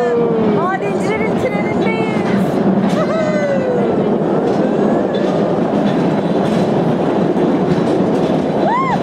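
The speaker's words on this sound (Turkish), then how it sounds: "Trenle yolculuk başladı." Train ride into the Hallstatt salt mine in Austria, a steady loud rumble and clatter of the rail cars with squealing wheel tones over the tracks, continuous throughout with faint voices mixed in.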